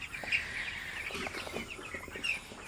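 Broiler chickens in a crowded poultry shed make soft, scattered clucks and chirps throughout, a fairly faint, busy flock with no talking.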